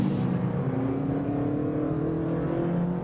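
A rallycross race car's engine revs hard and steadily at close range, its rising, whirring drone sustained without a break, during a BTRDA Rallycross Championship round.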